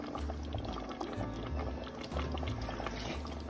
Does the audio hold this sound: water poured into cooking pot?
yes